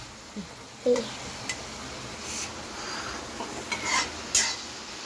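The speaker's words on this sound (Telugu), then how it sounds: "కొంచెం కలుపుకుందాం" A spoon scrapes and knocks around a pot of tomato rice mixed with biryani masala, with several irregular stirring strokes over a low sizzle and occasional metallic clinks.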